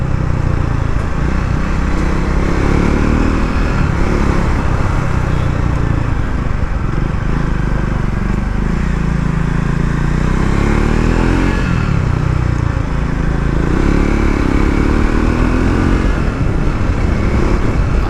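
Triumph Scrambler 400X motorcycle riding on the road, its exhaust giving a loud, continuous low bassy drone with gentle rises and falls in revs and steady wind rush throughout.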